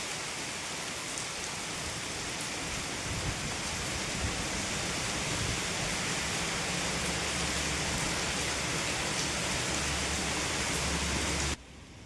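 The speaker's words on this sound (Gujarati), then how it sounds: "હવારમાં જોરદાર વરસાદ ચાલુ થઈ ગયો હટાણામાં." Heavy rain pours steadily in a village setting, a dense, constant hiss close by that continues without break for the whole stretch before cutting off at the very end.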